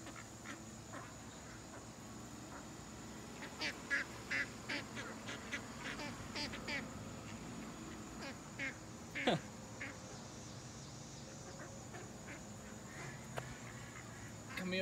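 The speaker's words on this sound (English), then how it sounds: "I've never been this up close to a wild duck." Close-up wild ducks quack in a lively burst of rapid calls, then scattered quacks that thin out over steady outdoor background, with no voices.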